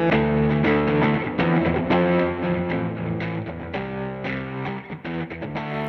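A soloed guitar track in GarageBand with a strong echo effect, dense chords repeating and smearing together in a loud, continuous wash.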